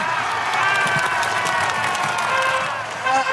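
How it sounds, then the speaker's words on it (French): A large crowd cheers and applauds a hero returning to the maze entrance in Harry Potter and the Goblet of Fire, a steady roar of clapping and shouts with a musical tone running through it. "Public qui l'acclame et l'applaudit comme un héros."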